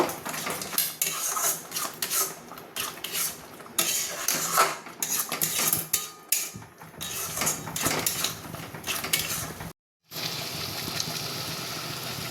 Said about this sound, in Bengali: এবার এটা নাড়াচাড়া করে মিশিয়ে নেব